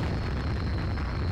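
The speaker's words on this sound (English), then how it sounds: "That was an explosion." An explosion in a horror video game, heard as a loud, steady, close rumbling blast that fills the whole moment with no distinct onset and no talking.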